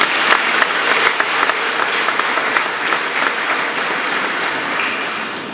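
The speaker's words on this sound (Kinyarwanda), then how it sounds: "Niba bamera amashyi n'impundu." A church crowd at a first communion celebration claps steadily in loud, continuous applause with scattered sharp peaks. No distinct ululation stands out.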